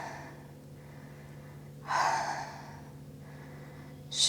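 A single deep, audible breath, drawn in and let out during a yoga hip session's forward fold, rising clearly over a quiet room with a faint steady hum beneath and a short sharp sound at the end.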